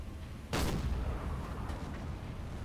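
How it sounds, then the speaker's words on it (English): A single sharp boom from a submarine deck gun bombarding a small sampan sailing ship in Silent Hunter 4, fired once and leaving a low rumbling tail over sea ambience. "Continue to bombard this little ship."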